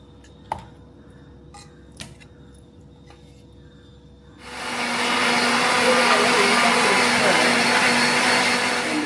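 An electric mixer grinder whirs loudly from about halfway through, blending soaked bansi rava into cucumber paste with a steady, close motor drone after a few small clicks in near silence.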